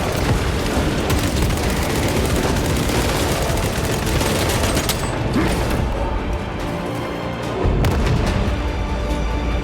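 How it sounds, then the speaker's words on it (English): Dense, continuous battle din in Space Marine 2 with a frag grenade blast buried among sustained gunfire, booms and mechanical clatter, loud throughout with no clear pause. "Throwing frag grenade!"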